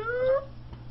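High-pitched, cat-like ghast cry from a video game: one short squealing wail in the first half-second that quickly fades into a low background hum.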